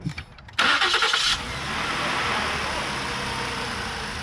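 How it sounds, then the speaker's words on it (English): A Ford 3.5 engine with a misfire cranks briefly and catches, then settles into a steady, fairly loud run with an uneven, lumpy idle. "Let's start it up. See what it sounds like. See if we have a misfire."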